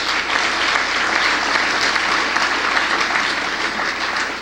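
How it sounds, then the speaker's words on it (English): Steady, dense applause from a sizable crowd, loud and continuous throughout with no pauses. "Let's give her another round of applause."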